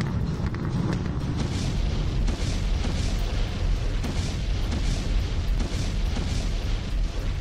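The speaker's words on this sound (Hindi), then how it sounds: "ये वीडियो रूस के सबसे खतरनाक बम के धमाके की है" A thermite rain bomb explosion: a dense, continuous roar of rumbling blasts and crackling bursts, loud and sustained throughout with no voices.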